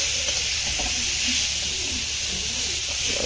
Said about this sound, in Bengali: আলু পেঁয়াজ বিট গাজর ভাজা ভাজা ভাজা হয়ে এসছে